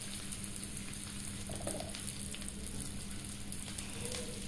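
Chopped onion sizzles steadily in a hot pan for an egg chow mein, a constant close frying hiss with no pauses.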